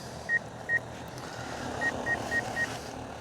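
Short electronic proximity beeps from the radar on a DJI Agras T100 agricultural spray drone: two quick beeps, a pause, then four evenly spaced beeps over a steady low background rumble.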